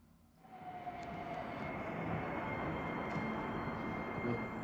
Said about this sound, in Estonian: Trammid sõidavad sinna tänna.